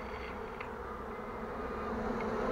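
Honey bees from a caught swarm buzz in a steady, dense drone that swells slightly louder toward the end, with no other sounds.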